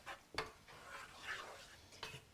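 A spoon stirs taco casserole sauce in a pan, giving a few faint scrapes and clinks against the metal over a low simmering hiss.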